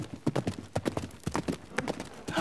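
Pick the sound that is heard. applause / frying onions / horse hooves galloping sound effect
horse hooves galloping sound effect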